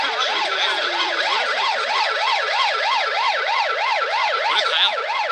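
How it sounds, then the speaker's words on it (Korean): A police car siren wails loudly and close, sweeping up and down in a fast, regular rise-and-fall cycle that runs without a break, with no voices. "저게 더 시끄러워요. 사이렌."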